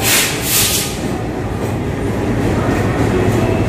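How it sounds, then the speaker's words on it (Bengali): An MMTS local train with white and green coaches rolls past at Secunderabad station, a loud, close, continuous rumble of wheels on rails with a brief hiss early on. "এটা হচ্ছে লোকাল ট্রেন, এরকম সাদা এবং সবুজ রং দিয়ে থাকে ট্রেনের বগিগুলো।"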